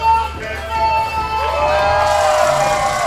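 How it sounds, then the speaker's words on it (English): A pro wrestling arena crowd cheers and shouts as a wrestler heads down to ringside with two young fans, loud sustained roaring with whoops and higher children's voices mixed in. "And the crowd is on fire."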